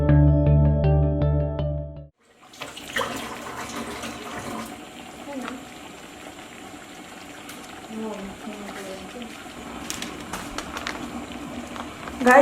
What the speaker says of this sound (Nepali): अब यो बोइल हुन थाल्यो, हेर्नुहोस् उम्लिँदैछ।